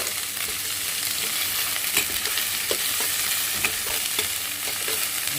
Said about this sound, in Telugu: ఈ అల్లం వెల్లు వేసుకున్నాం తర్వాత పచ్చిమిరకాయలు వేసుకుందాం వీటిని బాగా వేయించాలి